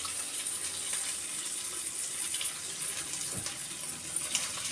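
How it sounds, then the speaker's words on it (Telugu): Tamarind juice pours into a hot cooking pan for stuffed brinjal, a soft, continuous liquid splash and trickle at low level, with no talk. "చింతపండు రసం వేసేసుకుందాం ఫ్రెండ్స్."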